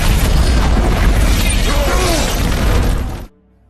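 A film explosion roars loud and sustained, a dense booming blast with debris-like crackle that holds for about three seconds before cutting off abruptly to near silence.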